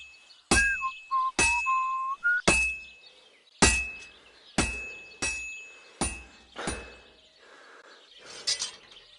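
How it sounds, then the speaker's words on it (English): A hammer strikes hot metal at a blacksmith forge in Kingdom Come Deliverance 2, about eight sharp ringing clanks spaced roughly a second apart, close and loud, with a brief whistling tone early on and no talking. "I have to hammer it more evenly."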